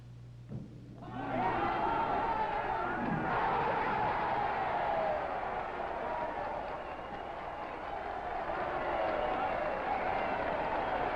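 A bowling crowd at the 1969 PBA San Jose Open bursts into loud applause and cheering after a strike, starting after a brief quiet moment and then holding as a sustained, roaring ovation to the end.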